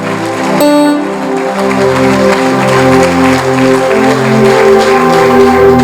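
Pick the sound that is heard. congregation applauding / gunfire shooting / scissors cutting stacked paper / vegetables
congregation applauding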